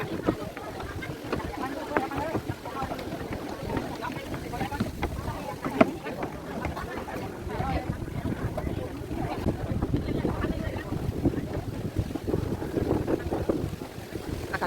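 Strong, cold wind buffets the microphone on a boat, giving a constant roaring rush with gusty thumps, while voices talk over it.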